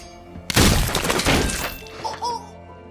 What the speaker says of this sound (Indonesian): Bibi Helen meledak hancur.